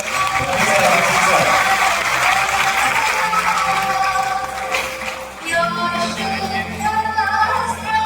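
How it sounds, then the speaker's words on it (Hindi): Loud clapping from a university auditorium audience at a TEDx-style event, dense at first and then thinning, with a voice and music-like tones rising over it in the second half. "हमारे टीम इंजीनियरिंग सर के लिए एक बार जोरदार तालियां।"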